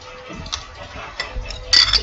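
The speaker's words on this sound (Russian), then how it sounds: "И все хорошенечко перемешиваем." Soap base mixed with pearl pigment is stirred in a container, giving faint, scattered clinks and scrapes with a louder clink near the end.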